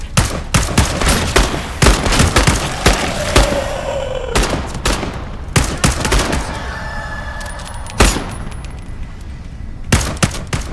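Video game gunfire in Into the Radius 2: loud, close, rapid shots crack out in irregular bursts and single reports across the whole stretch, with faint tonal game sounds between them.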